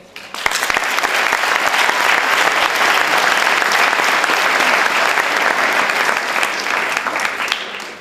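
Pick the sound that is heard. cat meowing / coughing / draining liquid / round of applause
round of applause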